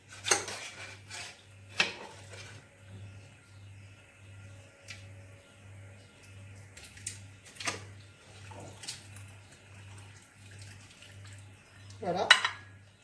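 Cooked partridges being lifted from a tajine pot and arranged on a plate, with faint clinks of utensils against dishes, a steady low hum beneath and a louder clatter near the end.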